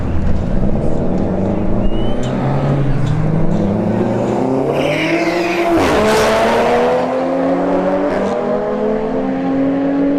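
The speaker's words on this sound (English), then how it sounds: "A90 Supra here in the left lane. The STI Blabby in the right lane." An A90 Supra and a Subaru STI launch down a drag strip side by side, engines climbing through rising revs and gear changes in a loud, sustained roar, with a sharp peak midway as they pass.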